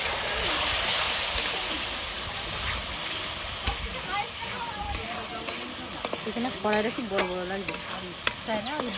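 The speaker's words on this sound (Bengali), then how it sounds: "কাঠের উনুনে আমি মাংসটা করে নিলাম" Meat cooks in a pan over a wood-fired stove, a loud continuous sizzle with stirring scrapes and clatter, and a voice talking over the later part.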